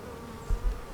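Honey bees hum softly around the hive combs in a brief, faint buzz with a couple of low thumps.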